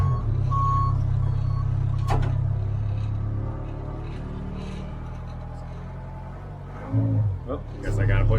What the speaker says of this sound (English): Of course, it's got the beeper.